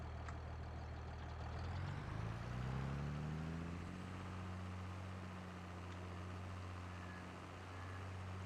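A John Deere tractor engine runs steadily on a farm during grass baling for silage, a low droning hum that rises in pitch as it revs up, then settles into a continuous even rumble.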